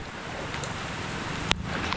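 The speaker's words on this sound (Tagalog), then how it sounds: "Wala pa rin pong pagtigil ang ulan sa pagbayo ngayon." Heavy rain pounds down steadily during a flood at a house, a dense, unbroken hiss of broadband noise that fills the whole stretch, with a brief sharp tap near the end.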